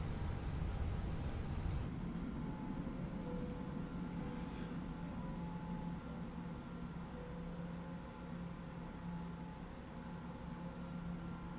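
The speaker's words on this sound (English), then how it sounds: "Ignition mode selector set to start, and starting engine number 2" Engine number 2 of an Airbus A320 starting up in a flight simulator game, a steady low rumble with a faint rising whine that holds level throughout, alone and without talk.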